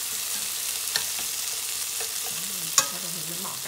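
Fish cake (chả cá Thăng Long) frying in a pan, a steady close sizzle with light stirring scrapes and a couple of sharp ticks, no voices.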